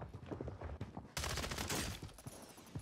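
Rapid gunfire in Call of Duty Warzone, a sustained burst of loud automatic shots starting partway in after quieter muffled shots and movement, close and dense.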